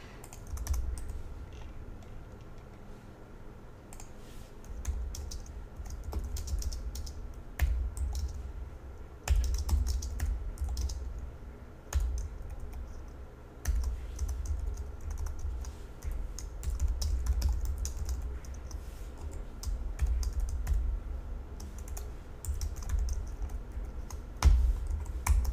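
Steady typing on a computer keyboard while writing code, a quiet run of soft key clicks in irregular bursts with brief pauses, close to the microphone and without talk.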